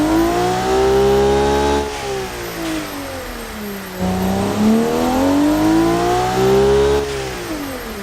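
A sporty minivan with bigger exhausts in BeamNG.drive revs loudly and close, its engine note sweeping up and down in repeated waves with no talking.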